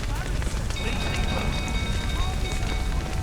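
Steady rain hiss from The Witcher 3 falls continuously and fairly loud, a broad dense wash with faint crackle mixed in, no talking over it.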